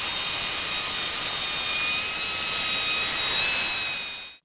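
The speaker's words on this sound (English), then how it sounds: "We smoothed those scratches up with some 800 grit." A plastic headlight lens is wet-sanded by hand with 800 grit sandpaper during a 3M headlight restoration, giving a steady, close, continuous hissing scrub that fades out at the end.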